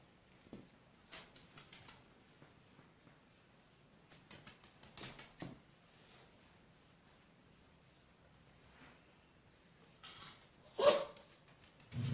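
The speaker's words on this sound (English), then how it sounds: "our dogs are getting upset. Somebody's outside walking by." Indoor dogs barking at someone walking by outside, a few short muffled barks in scattered bursts with quiet gaps between, then one louder sharper bark near the end.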